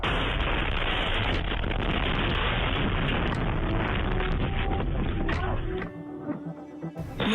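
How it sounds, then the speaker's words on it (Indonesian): A rocket strike hits a residential area of Kiryat Shmona in northern Israel, caught on CCTV. A loud, sustained blast roar and rumble fills most of the span, then drops abruptly into quieter crackling and a final burst. "Serangan ini menyebabkan ledakan besar dan kebakaran."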